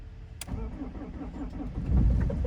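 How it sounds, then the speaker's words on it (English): A BMW's engine cranks in Arctic cold, a brief sharp click followed by steady churning turnover that swells louder near the end without clearly catching. "Come on, car. Please start."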